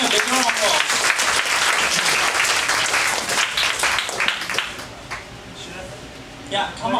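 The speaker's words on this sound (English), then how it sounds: "Give him a big round of applause." An audience at a Toastmasters meeting breaks into loud clapping that builds, then thins out and fades over several seconds, with some voices in the background.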